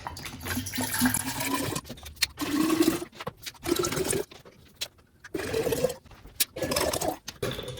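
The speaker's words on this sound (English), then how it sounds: "I'm going to fill this with purified bottled water because that's what I got." Purified bottled water glugging and splashing in bursts as it is poured into a sun tea jar, several separate pours with short pauses between them, close and fairly loud with no talking.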